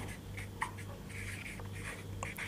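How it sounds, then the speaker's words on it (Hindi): A pen writes maths notes on paper, producing soft, quiet scratchy strokes in short bursts over a low steady hum, with no talk. "तो मैं लिखता हूं"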